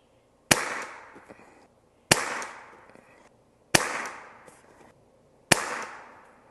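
An FX DRS Classic .22 air rifle is fired four times in a backyard, each shot a sharp, loud crack with a short fading tail, spaced evenly about a second and a half apart.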